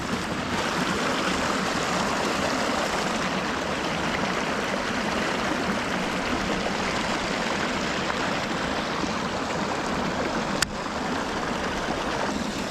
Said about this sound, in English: There's a decent little pool of running water, guys.